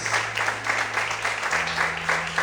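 Steady church congregation applause with dense clapping throughout, a low sustained tone underneath shifting pitch midway.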